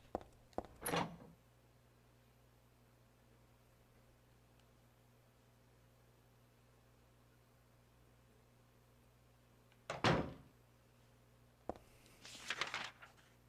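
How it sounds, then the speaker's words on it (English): Spooky door in the video game Silent Hill 3: a brief creaking scrape near the start, then after a long quiet stretch over a low ambient hum, a louder door groan and a rattling burst near the end. "That's a spooky door noise."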